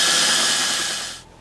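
Power drill spinning an 11/32 bit through a pilot hole while fitting a rear disc brake kit on a GY6 Ruckus scooter, a loud steady whine that cuts off sharply after about a second.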